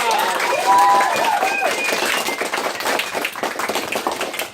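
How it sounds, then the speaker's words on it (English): Fifth-grade elementary students and onlookers break into a loud round of applause and cheering at a school American Revolution walk-through, a dense crowd of claps with excited voices mixed in throughout. "Give yourself a round of applause."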